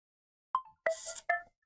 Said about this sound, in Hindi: अभी फोन आ रहा है, 1 मिनट काटना पड़ेगा।